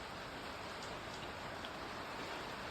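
Rain falls in a steady, even hiss with no break in its texture, faint and continuous throughout, with no voices.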